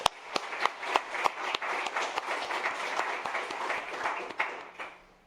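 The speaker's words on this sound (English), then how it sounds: "So one more round of applause for Alex." Applause from an audience at a community event on affordable housing in New Jersey, a moderate crowd with sharp individual claps standing out, steady for a few seconds before tapering off.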